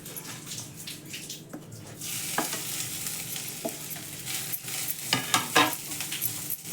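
Grated coconut and jaggery stirred with a spoon in ghee in a hot kadhai, with soft scraping, light sizzling and occasional clinks, close and steady with no talk.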